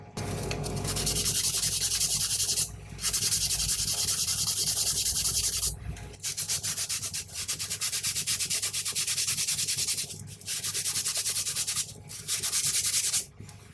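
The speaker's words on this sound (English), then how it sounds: "I've just given this a light bit of sanding around the edges there" A workpiece's edges get sanded by hand in long, steady rasping strokes, loud and close, with a few brief pauses between passes and no talk.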